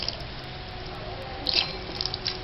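Salt is rinsed by hand in a small amount of water while preparing chapati dough, giving soft wet squishing and a few light splashes, quiet and close.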